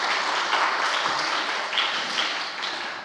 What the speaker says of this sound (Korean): 우리 박수로 한번 환영하시겠습니다.